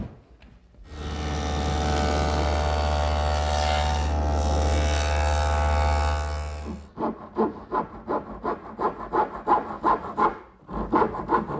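A hand saw cuts a tenon on a wooden dresser panel for a blind mortise-and-tenon joint, with one long, steady pass of rasping strokes, then a run of quicker, distinct back-and-forth strokes, close and clear with no talk.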